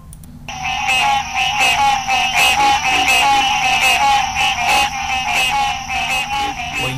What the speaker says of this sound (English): What you just heard was this little green tree frog's nature call.